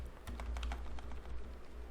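Rapid, light keystrokes on a computer keyboard, a short burst of close, quiet typing with irregular clicks over faint room hum.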